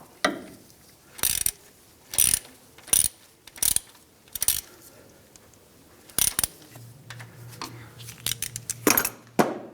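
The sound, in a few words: ratchet tightening a 10 mm bolt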